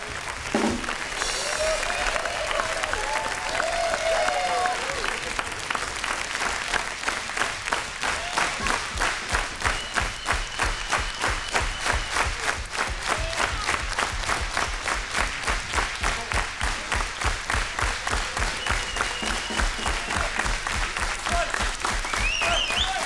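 Audience applause at a 1990 show concert by a Norwegian girls' and boys' marching band, honouring the conductor; steady, dense clapping fills the hall throughout, loud and continuous with some crowd noise and voices mixed in.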